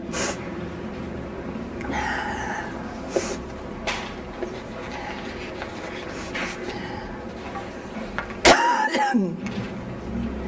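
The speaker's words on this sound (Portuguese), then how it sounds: "Para não gravar toda essa tosse." Coughing and throat clearing from someone at a spiritist mediumship class, a few rough bursts over a dull room background, the loudest and sharpest coming near the end.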